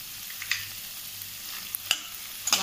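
Vegetables stirred with fresh cream in a hot pan, a soft steady sizzle with a few sharp scrapes and clicks of a spoon against the pan, close and alone.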